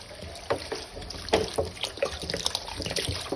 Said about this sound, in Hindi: अब इसमें पानी ऐड कर देते हैं